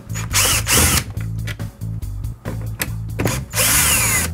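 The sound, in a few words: power driver removing screws with T15 Torx bit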